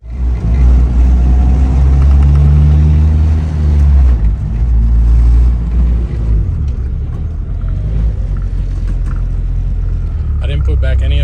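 An Acura RSX DC5 fitted with a race shifter package drives on a test run, its engine rumbling loudly and revving up then settling, with a voice talking over much of it.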